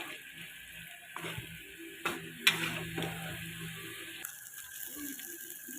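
Quiet sizzle of spice paste for a gulai of beef skin and chili being sautéed in a pan, with a few scraping stir strokes and light clatter over a steady frying hiss.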